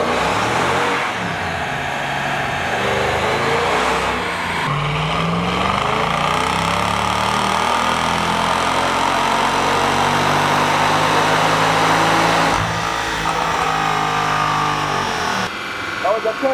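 A Mercedes-Benz AMG car makes a gear pull on a dyno, its engine droning loud and continuous with rising, sweeping harmonics as revs climb, a brief dip, then building again to a sustained roar close by.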